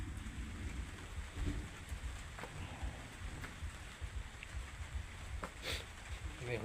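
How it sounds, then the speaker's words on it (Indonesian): Light drizzling rain outdoors near snow-capped mountains, a soft continuous patter with scattered individual drops ticking on surfaces, low-level and steady, while a voice speaks over it. "Ini hujan ini teman-teman. Hujannya rintik-rintik."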